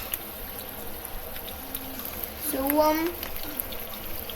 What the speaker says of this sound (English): Okay, so that's some hot water.